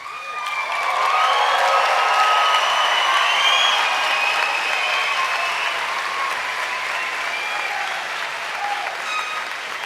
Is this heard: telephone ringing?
no